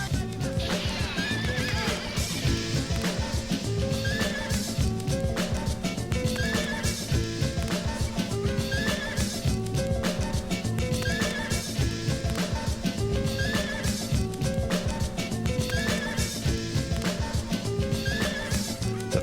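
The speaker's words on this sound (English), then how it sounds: "Horse sound." Horse neighs and whinnies recur throughout a dense, loud music track with steady beat and bass, the calls woven into a sampled mix alongside clip-clop-like percussion.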